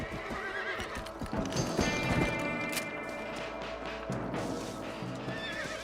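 Horses in the Red Dead Redemption video game clip-clop along at a trot while one neighs loudly, hooves steady and close throughout.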